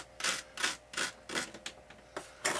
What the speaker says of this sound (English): I'm just going to take my knife and put some cuts